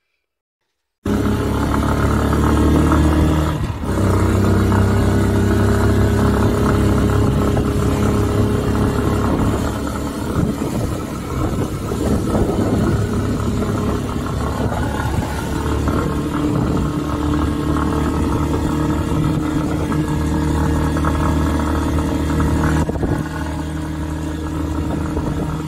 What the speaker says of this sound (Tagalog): Ito yung tunog na narinig ko sa makina.